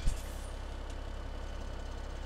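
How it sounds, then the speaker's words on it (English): Tractor engine in Farming Simulator 17, seeding barley on a Northern Alberta farm: a steady, low, even drone that holds at a constant pitch throughout, alone without talk. "Driving a nice tractor."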